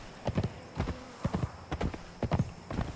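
Horse hooves clip-clopping while riding through a town in Conan Exiles, a steady galloping rhythm of paired hoofbeats, fairly close and clear with little else over it.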